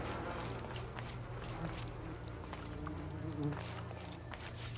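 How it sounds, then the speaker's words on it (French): Flies buzz continuously in a Shadow of the Tomb Raider game scene, a steady dense insect drone at moderate level filling the whole stretch with no pause and no talk over it. "Le bruit des mouches."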